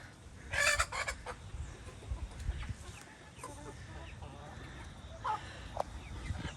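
Chickens cluck in a backyard coop left muddy and waterlogged after a hurricane, short bursts of clucking and a few calls scattered over a steady outdoor background, moderately close.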